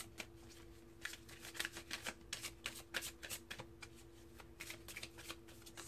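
A deck of oracle cards is shuffled close by in a quiet room, producing rapid, continuous papery riffles and soft slaps that rise and fall in short rhythmic bursts.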